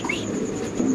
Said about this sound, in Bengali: খুব সুন্দর মাশাআল্লাহ বড় সাইজের কবুতর দেখেন